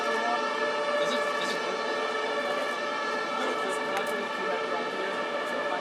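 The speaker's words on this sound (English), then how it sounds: "just maybe let the ambulance fly by and then" Ambulance siren passing by outside a Berlin press conference, a loud sustained wailing tone with layered harmonics that carries on steadily throughout.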